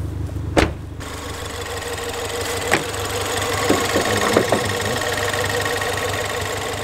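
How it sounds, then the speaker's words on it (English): A Ford Fiesta ST engine idles steadily with a low, constant rumble and faint knocking, after a brief starter burst at the beginning; no voices. "There we have it guys, the car does start."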